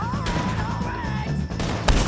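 Gunfire in the video game Red Dead Redemption 2: a few sharp, loud shots crack out over a steady tonal background, with a burst near the start and two more close together toward the end.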